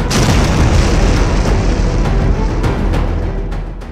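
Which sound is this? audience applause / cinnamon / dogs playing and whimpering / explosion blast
explosion blast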